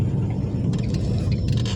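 Car fitted with a 4G15 stroker engine cruising along a village road in third gear: a steady low engine drone and road rumble, heard from inside the cabin, with light rattles and clicks over it.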